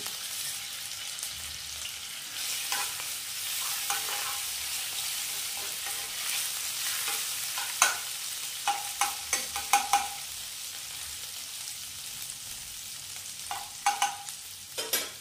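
Green chilli and grated ginger sizzle in hot oil in a wok, with a steady broadband fry and a run of sharp spatula scrapes and clinks toward the end.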